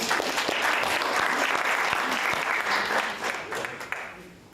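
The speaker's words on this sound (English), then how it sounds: "Let's have a round of applause for our volunteers." An audience at a conference breakout session claps steadily for volunteers in sustained applause that gradually tapers off toward the end.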